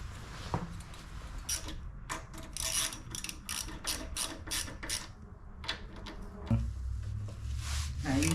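A ratchet tightening a bolt on a minibike gives bursts of quick, close clicking strokes in a busy outdoor setting, with a louder clunk near the end.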